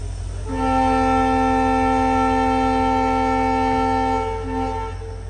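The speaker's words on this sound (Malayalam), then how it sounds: "പച്ചക്കൊടി വീശി ഇപ്പോൾ ഹോണടിക്കും." A train's horn blares one long, steady multi-tone blast of about four seconds at a trackside stop with no platform near Majorda station in Goa, close and loud over a low idling rumble, dipping briefly before fading.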